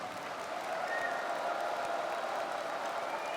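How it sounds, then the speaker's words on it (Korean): Sustained applause from a big crowd at a Korean party anniversary convention. It stays steady and evenly dense throughout, with a faint tonal hum underneath. "큰 소리 나게 다시 한번 힘차게 박수를 쳐주시기 바랍니다"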